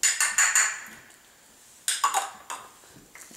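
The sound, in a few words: adding ingredients into a small bowl with mayonnaise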